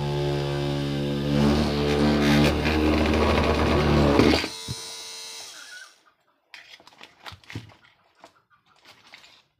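A 775 DC motor cutting a copper PCB gives a steady, buzzing, harmonic whine for about four seconds. The whine then cuts off, leaving faint scattered clicks and handling noises.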